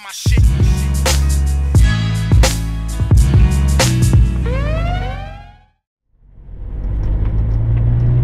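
An old beater station wagon engine rumbles loudly and steadily with revving surges and a rising whine. It briefly drops to near silence, then returns as a broad driving roar.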